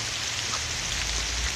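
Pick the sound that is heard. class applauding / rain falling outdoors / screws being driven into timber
rain falling outdoors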